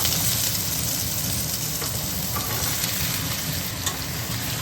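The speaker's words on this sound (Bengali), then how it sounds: "এবারে আলুটাকে শুকনো লঙ্কা আর গোটা জিরের সাথে ভালো মতো একটুখানি ভাজা করে নেব।" Potato pieces fry with dried chillies and whole cumin in hot oil, giving a steady, dense sizzle that carries on without a break from start to finish, with nobody talking.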